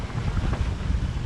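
A boat chugs along under engine in a brisk east wind, low steady motor rumble mixed with constant wind buffeting the microphone and some water noise, no voices.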